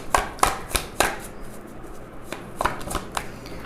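Tarot cards being shuffled and drawn during a Hindi tarot reading: a few crisp, close card snaps and flicks, followed by softer riffling, with no talking.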